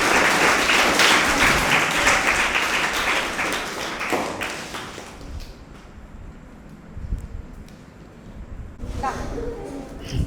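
An audience at a school program claps loudly at first, then the applause thins and fades out over several seconds, leaving a few scattered claps and quieter background sound.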